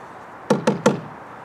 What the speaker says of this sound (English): Knock it 3 times for good luck.